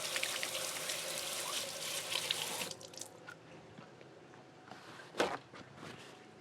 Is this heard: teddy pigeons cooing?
no